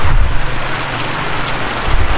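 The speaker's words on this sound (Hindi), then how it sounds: "तरस ही गए थे हम तो जी ये देखने के लिए, ये बारिश को।" Heavy rain pours steadily on a festive evening, a dense continuous wash of falling water close by with no voices.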